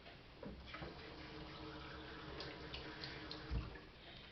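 Water running from a tap into a container while preparing a gelatin recipe, a steady soft splashing stream with a faint gurgle near the end, close but fairly quiet.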